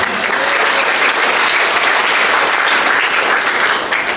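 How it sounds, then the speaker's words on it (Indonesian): A large crowd at a graduation ceremony for vocational school students claps loudly and continuously, a dense, even wash of applause filling the whole moment without pause. "Tepuk tangan untuk anak-anak sekalian."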